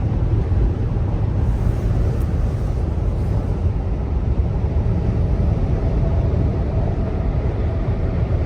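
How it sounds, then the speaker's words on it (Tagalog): Strong wind buffets the microphone outdoors, a constant loud low roar with steady gusting rumble throughout and no other clear sounds. "Lakas ng hangin."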